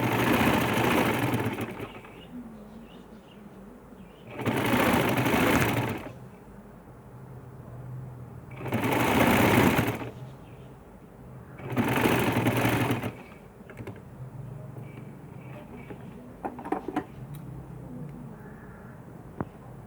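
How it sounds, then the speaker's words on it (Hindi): Domestic sewing machine stitching shirt lining along a folded edge: four loud, close bursts of whirring motor and rapid needle chatter, each lasting about two seconds, separated by quiet pauses. "और फिर इस फोल्डिंग के निशान पे सिलाई लगा लें"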